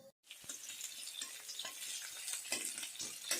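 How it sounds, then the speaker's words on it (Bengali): Small fish stir-frying with potato, cauliflower and spices in a pan, heard as quiet but close sizzling broken by repeated scraping and clacking stirring strokes in an uneven rhythm after a brief silent moment at the start. "আলু ফুলকপিকে ভালো করে কষিয়ে কুচো মাছটা ছেড়ে দেবো।"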